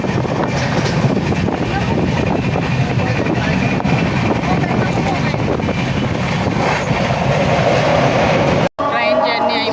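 A passenger train rumbles steadily along the rails on a journey toward Vizag, a loud continuous roar with faint clickety-clack, briefly cut near the end before resuming.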